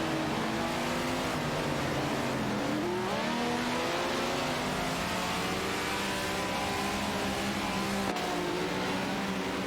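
Race cars in a racing video game roar continuously with high-revving engines, several overlapping engine whines rising and falling in pitch as cars jostle and overtake, loud and dense with no pauses.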